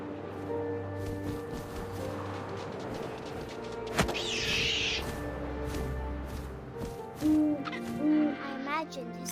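An owl hoots in the video game What Remains of Edith Finch, its repeated tones carried over a steady bed of wind and game ambience with a sharp thump partway through.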